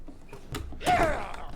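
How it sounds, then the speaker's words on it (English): A door in Resident Evil 7 tapped open with a brief creak and mechanical clunk near the end, close and fairly quiet, following a few soft thuds. "Tap the door."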